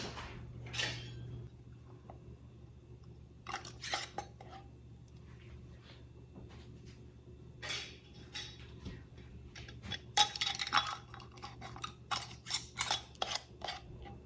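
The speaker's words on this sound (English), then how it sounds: "Put the lids on till they stop, and then just a little bit further." Metal lids are screwed onto glass canning jars of pickled peppers, giving sharp scattered clicks and taps of metal against glass over a steady low hum, growing busier toward the end with no talking.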